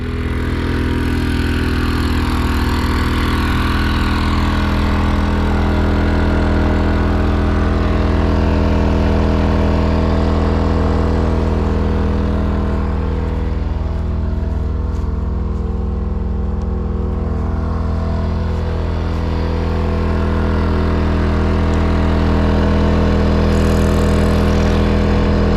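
A Westinghouse generator runs loud and close, its exhaust about two feet away, giving a steady, unbroken engine drone with no talk over it.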